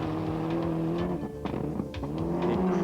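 A Group A rally car engine works hard in a 1996 Australian rally, with steady engine drone and quick on-off throttle changes, turbo and gearbox action running close and loud without commentary.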